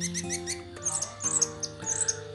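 An orange-headed thrush sings in long, rough phrases, loud and close, with bright chirping notes over a faint steady background tone.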